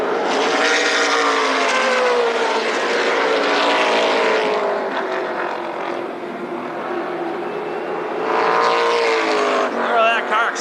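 Late model race cars roar around the oval at Berlin Raceway, engines rising and falling as they pass close by, with an announcer talking over the continuous motor drone.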